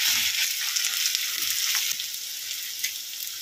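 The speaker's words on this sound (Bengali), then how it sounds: "বিরিয়ানির জন্য এখানে বেরেস্তা ভেজে নিচ্ছি।" Beresta, sliced onions for biryani, frying in hot oil in a pan, giving a steady bright sizzle with soft crackles throughout, close and alone with no talk.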